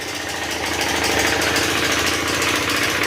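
A Yamaha Velox motorcycle engine that was refreshed and later cracked idles loudly and steadily up close, with a continuous buzzing drone throughout.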